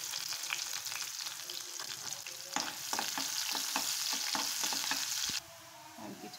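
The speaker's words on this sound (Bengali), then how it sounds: "আমি এখন পেঁয়াজ দিয়ে দিচ্ছি বাগারের জন্য" Onion hits hot oil alongside browning garlic for a dal tempering, with a steady loud sizzle and stirring scrapes that end abruptly near the end, leaving a quieter hiss.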